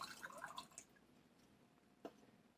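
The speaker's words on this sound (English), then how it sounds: "I'm going to pour my little coffee right here." Irish coffee is poured into a cup as a faint, brief liquid trickle with a few gurgling drips, followed by quiet and one last small splash.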